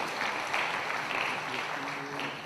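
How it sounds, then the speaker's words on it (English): An audience at a magazine special-edition unveiling event claps in a dense, sustained round of applause that stays fairly loud and even for a couple of seconds. "a big, big round of applause"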